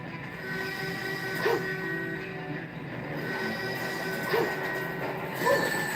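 Train rumble and wheel squeal in Sonic 06, a steady rolling mechanical drone with tonal screeches and a few short bursts, moderately loud and continuous with no talking.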